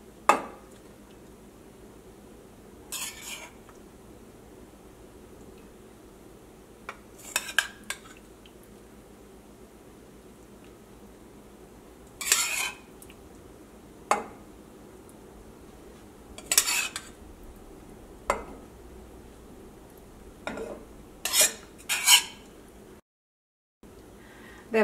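Spicy, tangy taro and chilli curry is served from a pot onto a plate, heard as scattered metallic spoon scrapes and clinks against the dishes between long quiet stretches.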